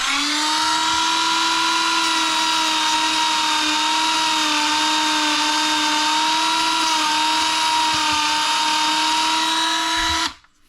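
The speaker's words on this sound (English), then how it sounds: "really all I got to do is hit it with a Dremel." A Dremel rotary tool grinds a 3D-printed body part for a Robskii Fab body and cage build, a steady, loud high-pitched whine held alone for about ten seconds before cutting off sharply.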